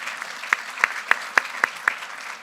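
Sparse, sharp claps from a lecture audience, about six distinct hits spaced roughly evenly over a couple of seconds, fairly close and fading out quickly.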